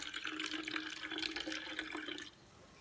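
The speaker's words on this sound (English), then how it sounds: "So I'm going to fill the bottle up with basically a half amount of water." Water pours steadily into a wide-mouthed Voss bottle, filling it about halfway for an under-the-sea sensory bottle; the close, splashy trickle runs for a little over two seconds, then stops.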